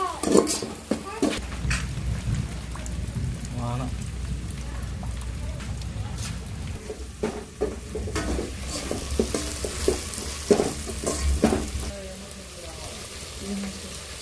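Tomatoes with ginger garlic paste frying in a pan, a continuous sizzle with frequent clinks and scrapes of a spoon stirring against the vessel, and a voice talking intermittently over it.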